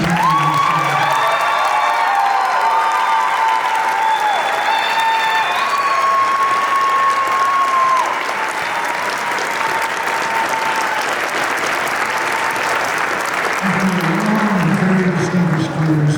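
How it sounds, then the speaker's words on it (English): Sustained audience applause fills a college commencement ceremony, loud and steady for the whole stretch, with a few scattered whoops and a voice speaking over the clapping at several points. "would you give me one more round of applause for Carla Stein"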